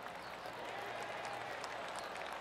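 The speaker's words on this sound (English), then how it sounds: "Crowd cheering for a 304 on that drive." Crowd applause and cheering greet a long drive at TPC Sawgrass in the PGA Tour 2K23 golf game, a steady, faint wash of clapping with some talk underneath.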